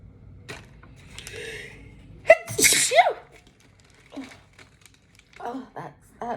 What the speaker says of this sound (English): Wait a minute, I'm about to sneeze.